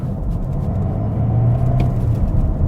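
A 2022 Toyota Corolla Hybrid's gasoline engine pulls under full throttle from inside the cabin, a steady close rumbling drone that rises slightly in pitch, with no talk over it.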